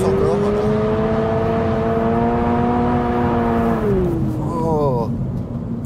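A Toyota GR86 engine revs hard and holds a steady high whine near 7000 rpm, then drops sharply toward idle and blips back up briefly. Voices talk over the engine throughout.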